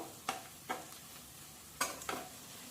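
Cooked rice going into a pan of gongura chicken fried rice, with a few soft scraping stirs and faint sizzling, quiet and close, with brief pauses between the strokes.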